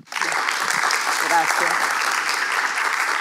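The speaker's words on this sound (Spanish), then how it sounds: "pido un aplauso para ella" An audience at a talk on technological change and social life breaks into loud, steady applause that fills the whole moment, while a speaker briefly says a word of thanks over it.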